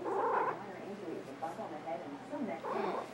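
A house cat purring close by, a soft rumbling purr running beneath a person's gentle talking throughout.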